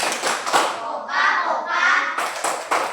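Schoolchildren in a classroom lesson do a rhythmic clapping chant, with sharp group claps at the start and end and young voices chanting in unison between them, close and lively.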